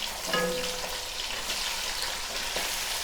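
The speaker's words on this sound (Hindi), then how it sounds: "इसको मैं फ्राई कर लूँगी ताकि जो चिकन है उसका जो रेड कलर है वो ख़त्म हो जाए" Chicken pieces frying on a low flame in a pan with browned onions give a soft, steady sizzle with a brief higher-pitched hiss near the start, staying fairly even and close throughout.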